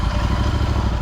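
Royal Enfield Interceptor 650 motorcycle with a Powerage exhaust, Fuel X Pro and NGage air filter, running steadily with a loud, continuous low engine rumble and throb close by, no voices.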